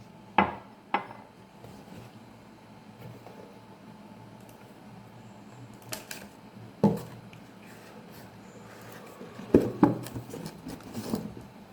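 Tiffany fine bone china cups being unpacked and handled: sparse, close clinks and light knocks of ceramic, in a few isolated clusters over quiet room tone.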